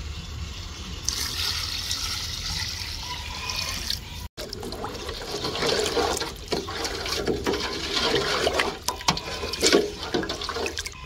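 Water pours and splashes steadily into a cooking pot of chicken for Dindigul biryani, a continuous gushing sound with a brief break partway through.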